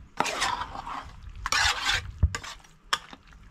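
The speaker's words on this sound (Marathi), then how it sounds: "लिंबूचो रस एड करूंक जाय. आणि मागीर सगळें हे मिक्स करून घेयात." Chicken being stirred and mixed with lemon juice in a pan, giving a soft wet scraping and sloshing in a few uneven strokes, close, with a faint sizzle and light clinks of a utensil.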